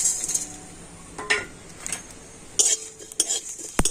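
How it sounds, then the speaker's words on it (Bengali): A spoon clinks and scrapes against a metal pan while spices fry lightly with two chillies for raw-mango chops. Sharp metallic taps and stirring strokes come in separate bursts over a faint background sizzle, with no talking. "মশলাগুলো একটু হালকা করে ভেজে নেব"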